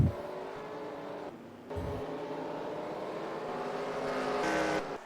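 Stock cars in a racing video game replay at Talladega drone continuously, engines whining and swelling as cars pass and rev, with a brief dip midway and a louder surge near the end, no talk heard.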